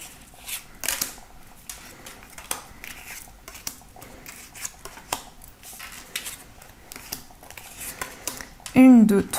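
Oracle cards are shuffled and drawn, giving a run of soft, irregular slaps and flicks close by, ending in a brief louder burst, with a voice speaking near the end.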